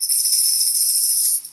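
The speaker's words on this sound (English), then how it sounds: "That's right, it's an egg shaker." An egg shaker shaken steadily for about a second and a half, giving a bright, hissy, continuous rattle that stops abruptly at the end.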